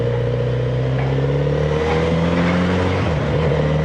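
Kawasaki Z900RS motorcycle engine pulling under acceleration while riding, a loud, deep, steady drone with a rising pitch that dips briefly near the end as the gear changes, no talking.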